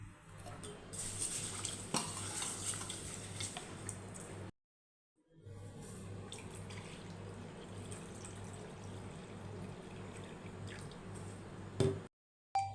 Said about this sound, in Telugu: వీటన్నింటిని ఓసారి శుభ్రంగా వాష్ చేసుకుందాం.